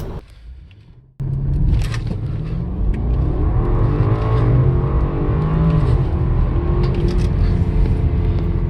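A 2016 BMW 550i xDrive with a JB4 programmer launches hard on launch control at about 6,200 feet in Colorado, its engine roaring loudly and building steadily through the run after a brief quiet start.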